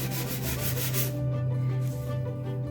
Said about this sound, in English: we're just going to go all the way around, sanding off that wax where we put the wax